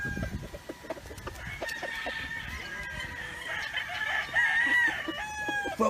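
A white claret gamefowl rooster in the Philippines clucks and then lets out a loud, clear crow near the end, amid a busy yard of other fowl calling nearby.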